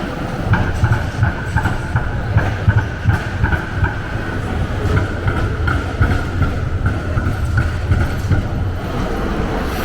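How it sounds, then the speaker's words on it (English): Melbourne trams roll past on a city street in the afternoon, a steady low rumble of wheels on rail with rhythmic clatter and a faint high squeal, continuous and fairly close with no talking. "A glowing afternoon light of Melbourne town. Trams going by."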